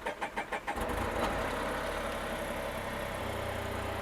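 A small propeller aircraft engine, heard as several rapid cranking pulses that catch into a steady, loud running roar close by.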